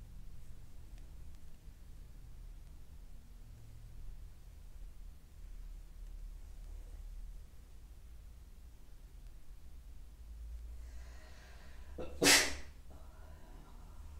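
A single sharp sneeze bursts out near the end amid the quiet hum of a yoga class, close and loud against the otherwise still room.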